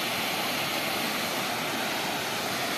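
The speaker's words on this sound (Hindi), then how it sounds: "ये झरना पांडा फॉल का है" Pandav waterfall in Panna Tiger Reserve, a steady, dense rush of falling water that is loud and unbroken throughout, with no voices.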